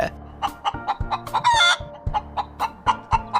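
Chickens cluck in a quick, rhythmic series with a rooster crowing briefly in the middle, loud and close over a steady background.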